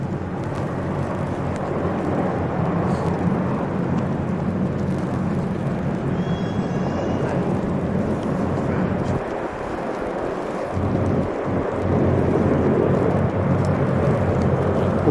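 An SRN4 hovercraft arrives at HMS Daedalus in December 2000 before a waiting crowd, its engines a loud, broad, continuous roar that swells toward the end, with wind buffeting the microphone.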